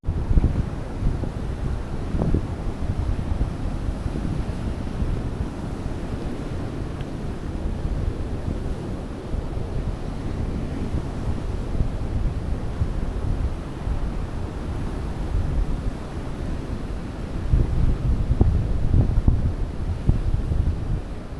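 Steady wash of low-tide sea water against the Konkan shore, blended with blustery wind rumbling across the microphone, swelling slightly louder near the end.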